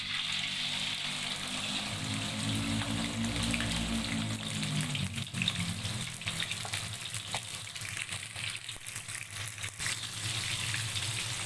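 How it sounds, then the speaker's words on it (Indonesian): Baby squid dropped into hot oil and frying, a steady dense sizzle and crackle with low bubbling underneath, loud and continuous throughout, no talking. "saya goreng sebentar saja biar nanti hasilnya tidak kaku"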